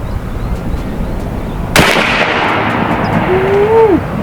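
A .72 caliber AEA Zeus air rifle fires a single sharp, loud shot that cracks against a concrete house foundation block. A brief ringing tail follows, then a faint whistling tone under the quiet background.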